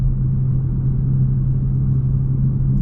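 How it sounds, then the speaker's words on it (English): Engine resonance drones inside a Genesis G70 3.3T AWD sedan while driving, a steady low booming hum with constant road rumble underneath and no talking. "This engine resonance period, not so good."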